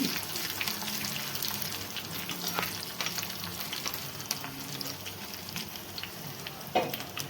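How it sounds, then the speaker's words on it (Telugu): Tempering spices fry in hot oil over a high flame, making a continuous dense sizzle and crackle, with scattered small pops and a brief clatter near the end. "తాలింపు వేసాను చూశారు కదా"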